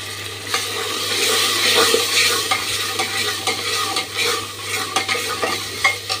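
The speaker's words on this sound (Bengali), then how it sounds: "নতুন মশলা কষানো হয়ে গেছে, খুব সুন্দর হয়েছে।" Cumin and garlic paste sizzles and fries in a pan while a spoon stirs it steadily, with scraping strokes over a constant hiss, close and moderately loud, with no voices.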